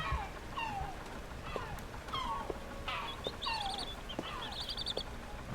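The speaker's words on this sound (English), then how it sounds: "And we go ahead and free the other bird." Bird chirps in the video game Plasticity: short, bright chirps and a few trilling call bursts repeat through the clip over a steady background of game sound.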